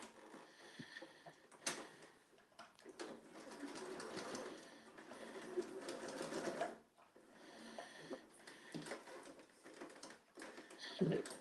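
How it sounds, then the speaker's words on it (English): A sewing machine stitches fabric all the way round a curved seam, running in steady whirring bursts with short pauses as the cloth is guided, heard close by at a modest level. "we're going to sew all the way round."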